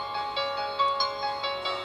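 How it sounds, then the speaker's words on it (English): A Samsung Galaxy phone ringtone plays at maximum volume, a loud, close, bright melodic tone of repeating notes that rises and falls in short phrases without any voices. "This is maximum ringtone, maximum volume."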